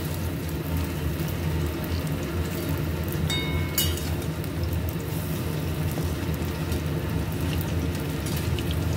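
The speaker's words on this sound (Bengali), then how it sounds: "একবারে সব কটা কোপ্তা দিয়ে দিলাম। এক সাইডে ভাজা হয়ে গেছে, এবারে উল্টে দিচ্ছি।" Banana flower koftas frying in hot oil and being turned over, a steady dense sizzle running throughout with a brief sharper crackle near the middle, close and fairly loud, no talking.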